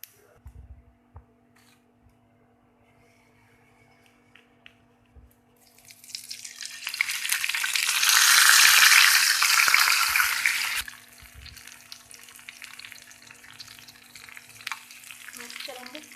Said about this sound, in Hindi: बघार हमारा तैयार है। अब हम इसे दही में डालेंगे।